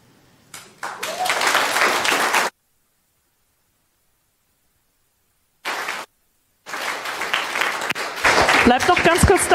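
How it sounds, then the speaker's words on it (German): Applause at a youth hackathon's closing presentation in Hamburg comes in two bursts of crowd clapping, broken by a long silence and a brief snippet, with a voice speaking over the last part. "Das ist euer Applaus"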